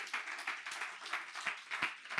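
A church congregation applauding during a sermon, a moderately distant patter of many hands with a few louder individual claps, no talking over it.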